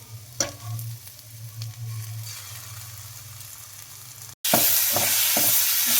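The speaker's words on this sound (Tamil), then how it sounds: "அடுத்து அரைச்சி வச்சிருக்கிற மிளகு கூட்டு உள்ளே போட்டுக்கலாம்." Ground pepper masala paste of coriander, cumin and onion goes into a pan of frying ginger and garlic for a country chicken fry, a low steady sizzle with stirring that jumps to a loud, bright hiss as the paste hits the oil.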